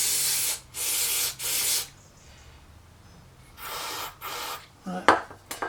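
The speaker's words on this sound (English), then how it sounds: "My carb cleaner's starting to run out." Can of carb cleaner spraying onto a British Seagull outboard carburettor, several short hissing blasts, the later ones weaker and sputtering as the can runs low, close to the mic.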